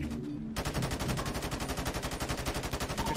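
Rapid automatic gunfire in GTA 5 aimed at another player, a sustained burst of loud, evenly spaced shots that starts abruptly after a brief quiet moment and runs to the end.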